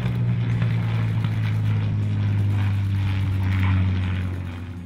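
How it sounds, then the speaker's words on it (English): A propeller airplane, a B-17, lands at Sebring: a loud, steady, low engine drone with a strong hum, close and continuous, easing slightly at the very end. "Tom flies the plane home with a perfect landing"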